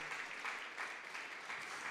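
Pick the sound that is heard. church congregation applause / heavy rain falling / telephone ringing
church congregation applause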